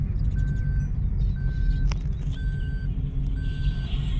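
A car on the road, heard from inside the cabin while a driver handles the wheel, gives a steady low engine and road rumble throughout, with a faint short tone repeating about once a second.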